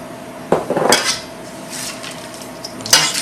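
Brown sugar being stirred into a homemade granola mixture with a spoon in a bowl, giving a few loud scraping clanks and rattling strokes in two bursts, close and alone.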